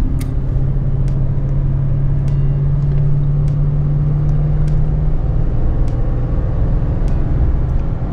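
Interior drone of a Toyota Tundra pickup with new Bilstein 5100 shocks being driven, a loud, steady low road and engine rumble with faint occasional clicks and ticks, no talk.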